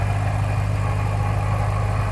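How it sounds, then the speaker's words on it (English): A supercharged 2008 Ford Mustang Saleen H281 Dan Gurney Edition idles smoothly and steadily close by, its low, even engine hum carrying a faint supercharger whine with no voices over it. "Very smooth running engine. You can hear that supercharger whine a little bit."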